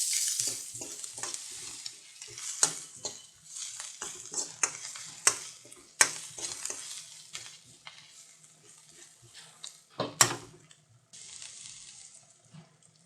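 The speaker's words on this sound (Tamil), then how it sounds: "நல்லா வதக்கி விடுங்க." Onions and curry leaves sautéing in a pan, a bright sizzling hiss broken by repeated scraping stirs and clattering spatula strokes at an uneven rhythm, close and fairly loud.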